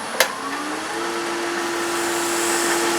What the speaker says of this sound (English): you get done using the tip of the skew to smooth it over